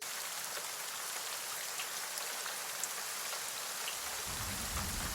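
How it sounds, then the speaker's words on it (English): Heavy rain pours down in a steady, dense hiss with no break, and no voices. "it starts to rain pretty heavily."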